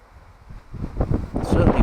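Cold, gusty wind buffeting the microphone at Silksworth Lake, a low rumbling roar that swells and grows louder toward the end, with someone talking over it.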